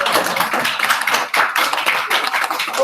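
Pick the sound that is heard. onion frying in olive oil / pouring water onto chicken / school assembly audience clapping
school assembly audience clapping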